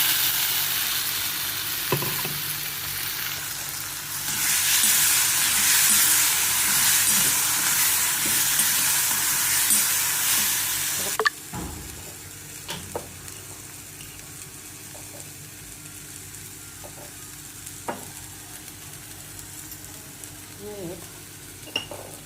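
Masala spices fry in oil and butter in a pan with a loud, bright sizzle that swells for several seconds, then drops to a quieter crackle punctuated by scattered clinks and scrapes of stirring.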